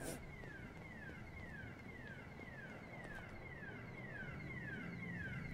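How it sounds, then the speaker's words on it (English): A car alarm in the GTA video game wails in a steady repeating pattern of falling tones, about two per second, distant and faint over a low rumbling engine-and-street bed. "Did an alarm just go off?"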